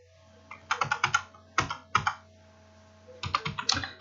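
A computer keyboard clatters in two close, crisp bursts of rapid keystrokes separated by a short pause, over a low steady hum.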